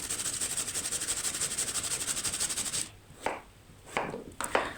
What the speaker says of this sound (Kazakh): Және картошканы да осылай кубиктап тураймыз.